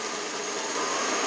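A 1992 Lexus LS400 engine idling, a steady, even hum with a light mechanical whir that holds smooth and close throughout.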